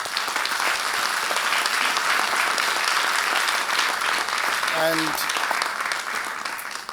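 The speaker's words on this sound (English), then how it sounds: "So we would like to give a warm applause to the authors." Sustained audience applause at a cryptography conference's best paper award ceremony, dense steady clapping from a large room filling the whole stretch, with a brief spoken word near the start.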